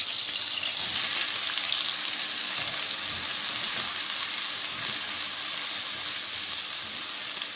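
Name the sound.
onions frying in mustard oil in a pan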